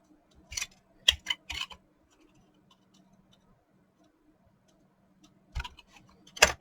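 Scissors snip through an action figure's hair in a few sharp close clicks, a quick cluster of three cuts, a long quiet pause, then two more snips, with no talk.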